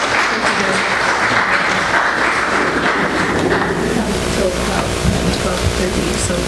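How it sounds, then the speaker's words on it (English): A room full of people gives a guest speaker a sustained round of applause after a class session. The clapping is loud and dense and runs steadily throughout, with some voices mixed in underneath. "let's give him a good round of applause"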